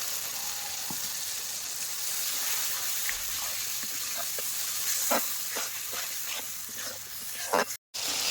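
Steady sizzling of spices frying with onion, garlic and ginger in a karahi, with intermittent stirring clicks and scrapes, close by and fairly quiet.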